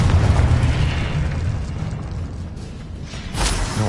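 A Confringo blasting curse goes off in Hogwarts Legacy, a loud, deep, rumbling explosion with a sustained roar that fades and then swells again with a second burst near the end.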